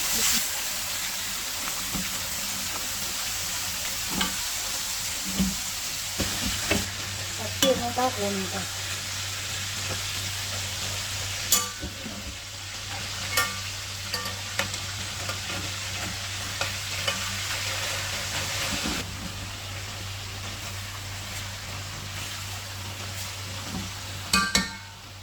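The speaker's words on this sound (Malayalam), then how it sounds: "നമുക്ക് മീനൊന്ന് ഫ്രൈ ആക്കി എടുക്കാം" Hamour fish sizzles steadily in hot oil, a constant crackling hiss with occasional clinks of a utensil against the pan and a brief spoken remark.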